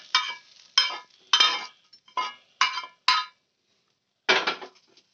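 A spoon clinks sharply against a bowl in short bursts, about seven in quick succession with a pause before the last, as spice is mixed into batter; no voices.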